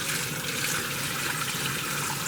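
Water pours steadily into a kitchen sink from a bowl of pomegranate seeds and floating membrane. The rushing, splashing flow stays constant and close for the whole stretch, with no talking.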